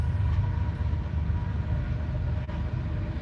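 A train rolling past behind a house, heard as a steady low rumble with continuous rail noise throughout, fairly close and unbroken, with no talking.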